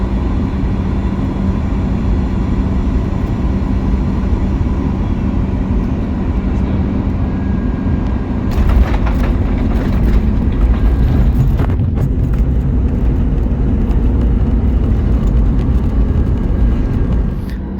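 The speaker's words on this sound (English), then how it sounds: "So we bumped onto Salalah airport and we had a very fast braking experience here" Cabin roar inside a Qatar Airways Boeing 737 MAX 8 landing at Salalah airport, a loud steady engine and airflow drone with a sudden jolt of touchdown and harder braking rumble midway.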